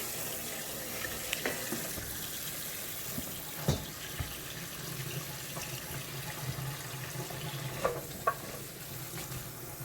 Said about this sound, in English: we're going to put it in a colander and rinse it. Okay, turn on my sprayer